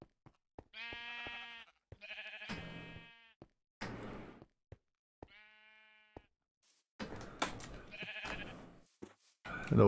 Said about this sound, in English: Hello, Mr. Sheep.